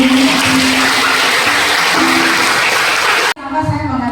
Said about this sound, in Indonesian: Tepuk tangan dulu dah untuk diri.